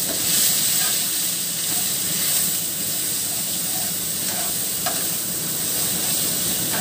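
Spices including turmeric powder hit a hot wok for a dal vada curry, giving a loud, continuous close sizzle and hiss with faint stirring underneath.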